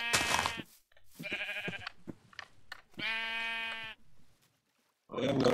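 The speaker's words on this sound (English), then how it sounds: "And some more sheep." Minecraft sheep bleat in several separate calls, loud and close, with short gaps and a pause between them.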